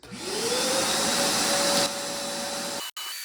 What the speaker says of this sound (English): I'm going to take the screwdriver and the vacuum and kind of just go around the ports